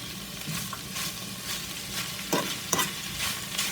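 Chicken roll filling stirred and frying in a pan, a steady sizzle with repeated scraping strokes of the spoon, close and fairly loud.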